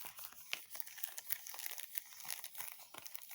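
Coffee-dyed baking paper on a handmade junk journal being crinkled and rustled by hand, a close, continuous papery crackle with sharp little crunches throughout and no talking.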